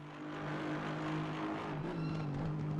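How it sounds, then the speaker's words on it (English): GT3 race car engines in a racing video game at Bathurst: a continuous droning engine note holds steady pitch, then shifts as the car changes gear, with tyre and track noise beneath. "You can hear the engine of the cars okay."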